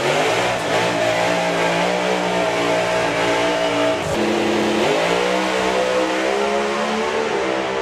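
Drag racing cars accelerate hard down the strip, a loud sustained engine roar that climbs in pitch through the gears, with a brief break midway as the note shifts, and no voices.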